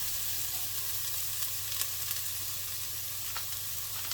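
Garlic and onion sautéing in a pan give a steady, close sizzle and crackle throughout, with a low hum underneath and no voices.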